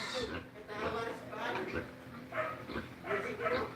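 Several dogs bark, yip and whimper while being chased around a yard, the sounds coming in uneven bursts and mixed with people talking throughout.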